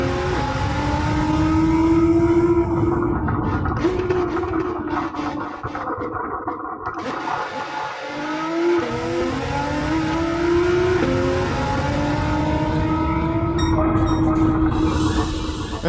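A Nissan GT-R race car engine in Gran Turismo 7 roars continuously through a lap, rising and falling in pitch as it revs and shifts, loud and close with no talk over it.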